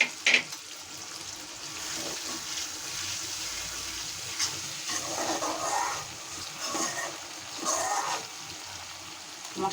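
Spice paste stir-fries in a pan for a Bengali potato and taro curry. A steady close sizzle runs throughout, with scraping stirs and brief louder bursts.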